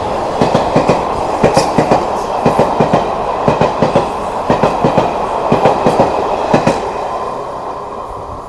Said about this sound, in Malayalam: Train number 12075 Kozhikode Thiruvananthapuram Janshatabdi express ആണ്.